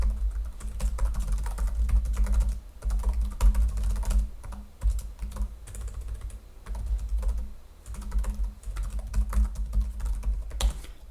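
Steady, continuous typing on the low-profile chiclet keyboard of a 2023 HP Victus gaming laptop with a full-size numpad, the key clatter close and even throughout, with no talking.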